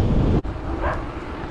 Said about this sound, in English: We got a dog up here, Great Pyrenees.